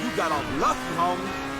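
A Formula 1 car driven along an ordinary road in GTA V, its engine giving a revving, pitch-sweeping drone that rises and falls over a short stretch, fairly close and steady.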